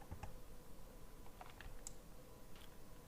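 A few faint, sparse key presses tick on a computer keyboard against a steady background hiss, with no voices.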